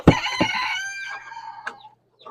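A rooster crows close by among chickens clucking at feeding time in a coop, with sharp clucks at the start and the crow fading out.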